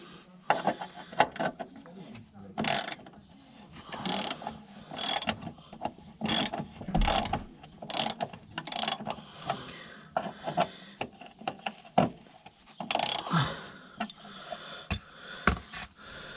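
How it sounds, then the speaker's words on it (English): A ratchet clicks in short bursts while loosening the fuel filter on a 2000s Volvo V70 or S60 petrol car, sharp close ratcheting clatters spaced irregularly with quiet gaps between strokes. "So right, we got it loose enough now, we can transfer back to our ratchet"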